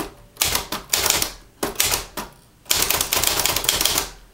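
A manual typewriter is typed on close by: rapid bursts of sharp key strikes clack in quick clusters separated by short pauses.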